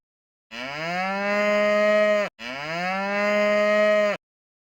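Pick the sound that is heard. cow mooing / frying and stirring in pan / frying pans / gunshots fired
cow mooing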